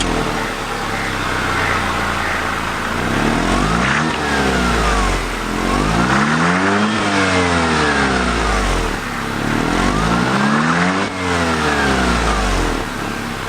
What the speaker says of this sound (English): So the exhaust is original, and I'll make you hear the sound.